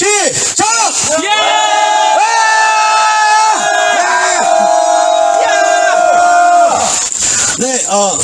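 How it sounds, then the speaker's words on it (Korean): Protesters at an outdoor rally against a missile-defense base shout together in one long loud cry, with rising whoops and sustained yells from many voices, then a second burst of shouting near the end. "전체 함성 시작"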